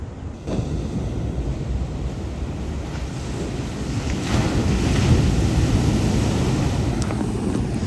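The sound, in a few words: waves crashing at the Wedge shorebreak, California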